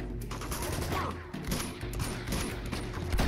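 Shotgun blasts and gunfire during a firefight in the video game Uncharted 2: Among Thieves, with dense, continuous bursts of shooting and combat noise throughout.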